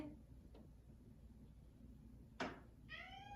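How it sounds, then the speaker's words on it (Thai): A hungry cat meowing for food in the morning in a quiet home, one clear short meow near the end after a faint click and a sharper knock, otherwise hushed room tone. "ร้องเมียวเมียวเมียวหิวเข่าทันทีเลย"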